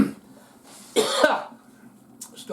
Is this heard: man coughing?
yes